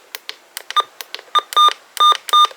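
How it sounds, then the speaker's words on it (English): Sharp electronic button beeps from a weather radio, like those of old Uniden scanners: soft button clicks are followed by several short, loud tonal beeps in quick succession, close and alone. "the button beeps sound like old Uniden scanners"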